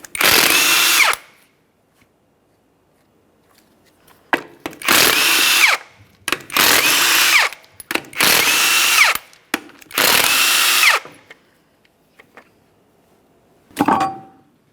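A power tool spins off the 19mm lug nuts from a Jeep Patriot wheel in loud, close whirring bursts of about a second each, separated by pauses, with a few shorter blips at the start and end.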